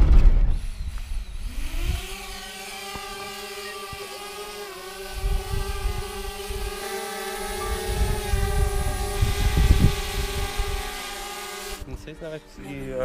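A camera drone flies over countryside while searching for a waterfall, its steady high-pitched rotor whine rising at takeoff and holding loud and close throughout, with people talking beneath it.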